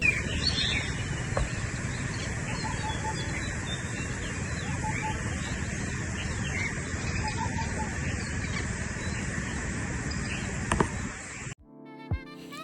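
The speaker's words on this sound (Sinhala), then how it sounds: "කුරුල්ලෝ කිචිපිචි ගාන සද්ද කොච්චර මිහිරියට අපිට ඇහෙනවද කියලා" Birds chirp and call steadily over a constant outdoor hum, many small voices overlapping at a distance; the ambience cuts off abruptly near the end.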